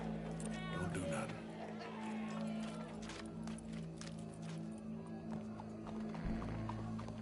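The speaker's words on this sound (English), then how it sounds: "Go brush that horse, officer." Horse hooves clip-clop at a steady walking pace in the video game Red Dead Redemption 2, with an occasional whinny and voices talking over the game audio.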